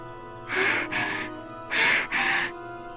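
Someone gasps for air with big gulping breaths: two pairs of sharp, breathy inhalations, close and loud, separated by a short pause.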